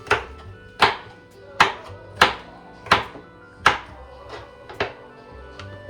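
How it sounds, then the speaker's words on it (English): A knife chops red pepper on a cutting board for jerk turkey, landing roughly ten sharp, evenly spaced blows, some heavy and some lighter, loud and close with no talking. "Now we're gonna do the red pepper."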